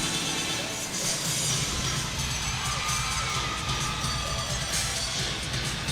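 Loud, sustained cheering and shouting from a packed arena crowd of about ten thousand at an NCAA gymnastics regional in Baton Rouge, mostly supporting LSU, a dense continuous roar without pause.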